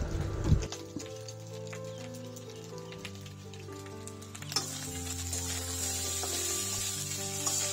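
Food heats in a pan in a home kitchen with a faint sizzle that grows noticeably stronger and hissier partway through, along with soft clinks and stirring over a low background hum.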